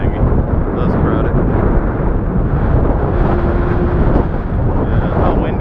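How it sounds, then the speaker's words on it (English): Strong headwind buffets the microphone while riding a modified Ecotric e-bike, a loud, steady low roar throughout with no clear pauses. "how windy that is"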